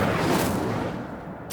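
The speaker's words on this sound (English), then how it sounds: "I wonder if I can hit the rune with a spell. Incendio!" Incendio fire spell in Hogwarts Legacy bursting with a heavy, rumbling whoosh like artillery fire, then a sharp crack at the end, close and fairly loud, no speech.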